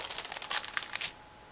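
A plastic bag holding vinyl tracks for an ICM 1/35 scale model kit is opened nearby with a burst of sharp crinkling rustles, then falls quiet.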